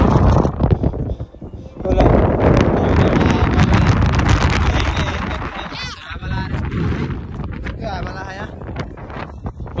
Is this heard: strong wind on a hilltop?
yes